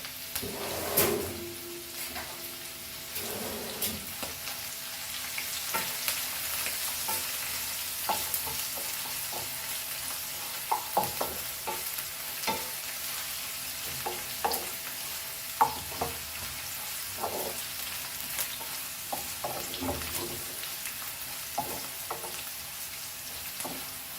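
Vegetables stir-frying in a pan for beef fried rice, a continuous sizzle broken by frequent scraping and clacking of a spatula against the pan, close and steady.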